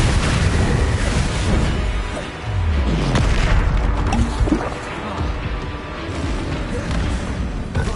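Bombarda spell blasts in Hogwarts Legacy, loud booming explosions amid busy combat effects, with a low rumbling boom around the middle and more impacts throughout.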